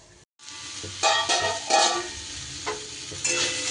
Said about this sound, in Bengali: বেগুন আর কুমড়ো আমি ভেজে নিচ্ছি